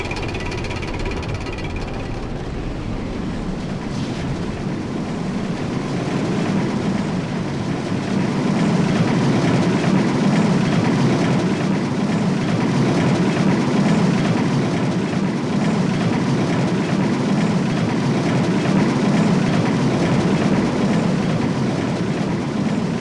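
A roller coaster in RollerCoaster Tycoon 3 rattles along its track with a steady clickety-clack rumble that swells louder partway through and continues without voices.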